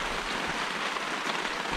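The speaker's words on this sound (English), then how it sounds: "we're gonna enjoy the rain" Steady rain at a Labor Day campsite, a dense, even hiss of drops pattering on surfaces close by, continuous and fairly loud with no voices.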